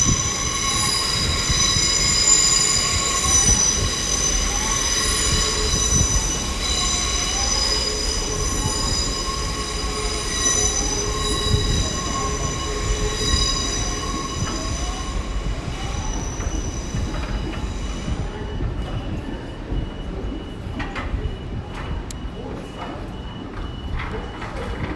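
A Heathrow Express train departs London Paddington, its steady rumble joined by high, drawn-out wheel squeals that fade as it pulls away, leaving a quieter tail with faint clanks.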